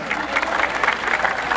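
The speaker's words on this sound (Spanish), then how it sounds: "A ver cómo están las palmas para Andahuaylas." A crowd claps steadily and densely throughout at a bullfight festival in Andahuaylas, Peru, the applause loud and close with no pauses.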